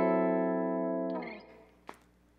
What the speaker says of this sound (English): This is the sound of a diminished chord.